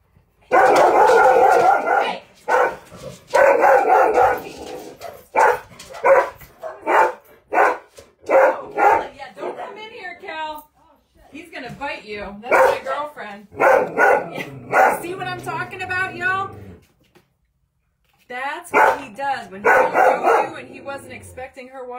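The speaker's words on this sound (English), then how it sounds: "That's why they've all been barking." Several dogs bark loudly and repeatedly in a home, in dense bursts of barks and yips with brief gaps, while a person talks over them at times.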